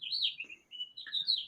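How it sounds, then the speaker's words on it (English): A bird chirps close by in a quick series of high, warbling tweets, with a brief pause in the middle and no voices. "Can you guys hear the birds chirping in my?"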